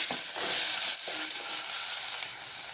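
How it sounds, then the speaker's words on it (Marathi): Onion, capsicum, potato, carrot and tomato fry together in a pan, giving a dense, close sizzle with a few stirring scrapes and no talk. "कांदा शिमला मिरची बटाटा गाजर आणि टोमॅटो हे सगळं फ्राय करून घ्यायचं आहे"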